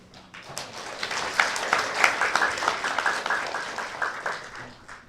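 A church congregation rises to give a warm round of welcome applause for a visiting deacon during Sunday worship, steady clapping filling the room for several seconds before fading.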